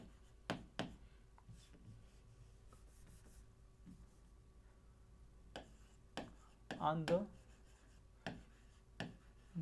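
Chalk or marker scratches and taps on a classroom board during a chemistry lecture on carbohydrates, coming in short separate strokes and clusters, faint, amid quiet room tone and occasional low speech.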